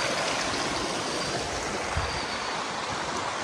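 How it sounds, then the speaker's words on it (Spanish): A river on a farm rushes in a steady, broadband wash, a constant close stream of water with no voices. "Miren qué preciosura de río."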